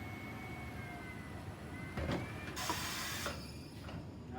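A Hunter TC37 tire changer machine turns around the wheel with a mechanical whirring and grinding, louder bursts and a higher-pitched whine toward the end, close by with no talking.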